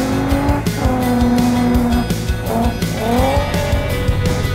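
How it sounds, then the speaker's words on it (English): A classic rally car is driven hard on a rally stage, its engine revving loud and close with rising and falling pitch through gear changes and brief tyre scrabble, filling the whole stretch without talk. "The Gazelle looked and sounded fantastic"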